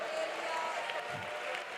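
A church congregation at a Pentecostal prayer service claps together in a brief, fairly faint burst of steady applause.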